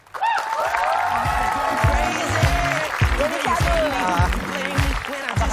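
A television studio audience applauds comedian Denny Wahyudi's entrance, loud sustained clapping with some cheering throughout, while a voice talks over it.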